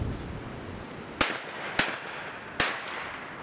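Three sharp, loud shotgun blasts ring out at a steady pace, the shotgun fitted with an RD18 shell catcher, each crack followed by a brief decaying echo over a quiet outdoor background.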